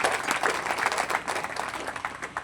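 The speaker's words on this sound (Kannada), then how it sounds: "ಜೋರಾಗಿ ಚಪ್ಪಾಳೆ ತಟ್ರಿ" Applause from an audience at a devotional song performance, a dense burst of many hands clapping together, fairly close and steady, fading slightly toward the end.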